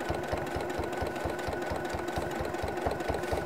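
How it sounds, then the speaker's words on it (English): A sewing machine stitches binding onto a quilt with a fast, even mechanical chatter of needle strokes over a steady motor hum, close and continuous, with no talking. "I'm gonna keep doing a bit of stitching"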